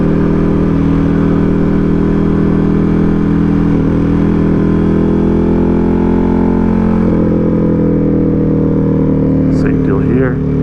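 A vehicle engine hums steadily in second gear while climbing Cottonwood Pass, a loud, continuous drone with slight swells in pitch, and voices talk over it.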